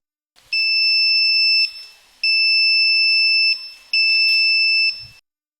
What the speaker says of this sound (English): when this IR sensor will detect any object, the buzzer will start ringing